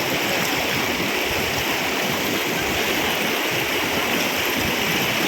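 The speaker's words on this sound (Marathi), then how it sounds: "हा आपल्या नदीला नळाचे पाणी आले" Tap water flows down a village river in a loud, continuous rushing stream, steady throughout with no pauses.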